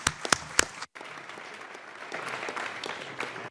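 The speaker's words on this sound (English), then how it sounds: "maybe a round of applause for the panelists in front of us that have been doing an excellent job." Applause for the panelists at a UN forum session, a few sharp claps at first, then a brief gap and a steady, moderate round of clapping from the room.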